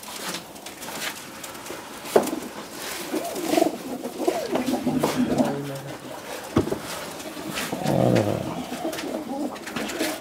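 Racing pigeons coo in a Punjabi village loft, repeated throaty rolling calls scattered across the stretch with occasional wing flaps and knocks nearby.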